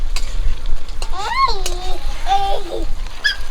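Doi rui, a rui fish curry, stirred in a hot pan with a steady sizzle and scraping, while a high voice rises and falls over it for most of the stretch.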